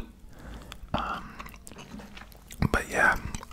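Close, wet chewing of gum with soft smacks and squishy clicks, recorded intimately in an ASMR style, with a couple of sharper crunchy snaps near the end and faint breathy sounds throughout.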